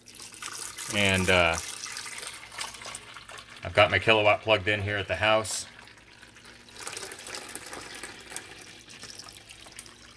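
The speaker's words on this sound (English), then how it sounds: "I'm going to fill it up with water" Tap water runs into the glass carafe of a Black and Decker coffee maker in a home kitchen, a soft steady flow that carries on under and between a man's speech.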